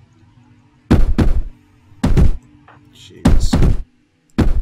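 Raiders smashing at colony walls in RimWorld, heard as heavy thudding impacts in short bursts of two or three blows with pauses between, loud and close, plus a brief spoken exclamation.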